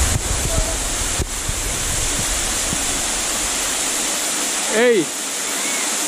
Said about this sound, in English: Nice little waterfall business here, man.